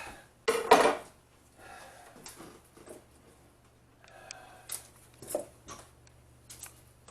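Knife chopping through apple chunks on a board, one loud clattering knock near the start followed by scattered softer taps and clinks of pieces, close up, no talking.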